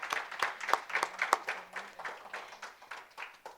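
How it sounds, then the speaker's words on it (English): Audience applause at a community college entrepreneurship press conference, a modest scattering of claps that fades and thins toward the end, with a faint voice underneath. "Let's give Vivian another round of applause for that very compelling story"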